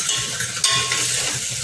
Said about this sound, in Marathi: हलकं ब्राऊन कलर होईपर्यंत शिजवायचं आहे कांदा